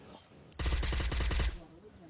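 Rapid automatic gunfire from a shooter video game bursts in after a short pause and runs for about a second as a dense, loud volley of closely spaced shots, then cuts off and leaves a quiet tail.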